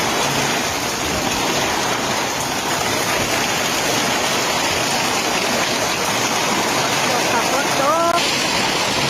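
Steady rain falling outdoors under a darkening sky, a dense continuous wash of hiss and patter that stays loud and even throughout, with a brief faint voice-like sound near the end.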